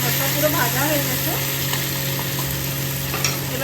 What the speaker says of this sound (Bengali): ভাজা হয়ে গেছে আমার মশলা, দেখতে পারেন।